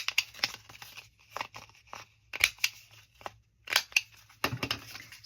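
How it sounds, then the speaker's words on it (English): Paper tag corners being rounded with a corner punch in a craft setting: a series of faint, crisp snipping clicks spaced irregularly over several seconds, with soft paper rustle between them. "I forgot to round the corners."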